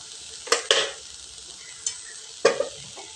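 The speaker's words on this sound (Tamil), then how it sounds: "இஞ்சி பூண்டு பச்சை மிளகாய் விழுது இதில் நல்லா வதங்கட்டுங்க எண்ணெயில்." Ginger, garlic and green chili paste sautés in hot oil for a fresh green peas sundal, a soft steady sizzle punctuated by a few sharp scraping knocks of a spoon stirring in the pan.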